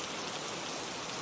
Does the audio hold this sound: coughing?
no